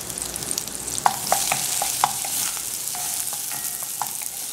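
Onion, garlic and pepper frying in hot oil, a steady close sizzle broken by several sharp clicks and taps of a utensil against the pan, with no one speaking.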